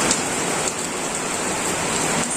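Steady heavy rain from Typhoon Ulysses pours down as a dense, continuous hiss with scattered drop impacts throughout, loud and close, with no speech.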